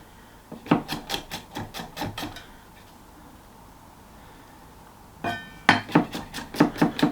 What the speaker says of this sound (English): So 3 fairly small cloves of garlic. I'm just going to roughly chop these.